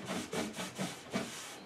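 Cloth rubbing clear wax into a wooden table top, a steady back-and-forth swishing with soft periodic strokes, close and alone.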